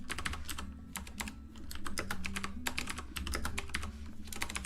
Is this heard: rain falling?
no